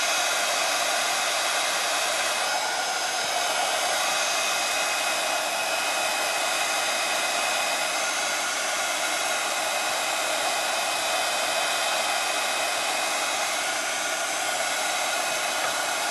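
A heat tool blasts steadily over a foil craft project, a loud, constant whooshing hum held without a break from start to finish, with no voices.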